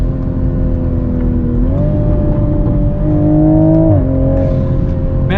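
A 2021 Toyota Supra drives through a long sweeping canyon corner, its engine humming steadily and loudly with pitch rising and dipping as the car holds speed and shifts through the bend, heard from inside.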